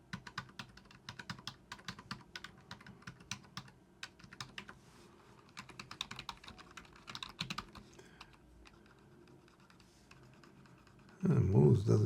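Typing on a Keychron K2 HE keyboard: a steady run of quick, light key clicks up close for about eleven seconds, then a sudden louder low rumble at the end.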